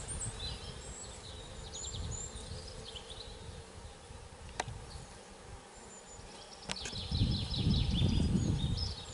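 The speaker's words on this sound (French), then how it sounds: "mes abeilles qui rentrent." Honeybees returning to the hive buzz in a steady drone at close range, with a few sharp clicks and a louder swell of buzzing near the end.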